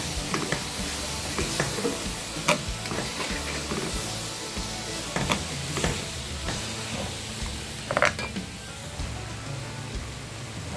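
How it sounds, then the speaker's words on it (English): Yellow bell pepper stirred in a frying pan as part of a fried fish stew, giving a continuous sizzle with irregular spoon scrapes and taps throughout, fairly close and with no talking. "yellow bell pepper, and then just stir and mix them up so well"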